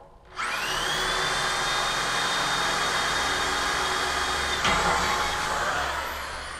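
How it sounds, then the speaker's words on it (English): A drill bores holes for pegs in steel collars of a Paragon spiral stair, a loud sustained high whine that starts abruptly and runs steadily for several seconds before easing off, with no speech. "I initially tried drilling for my pegs with the full-size drill bit."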